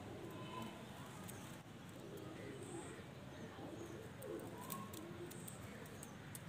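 Pigeons of the kaal noky breed cooing softly in a loft, repeated low coos with faint chirps and rustling, quiet and close.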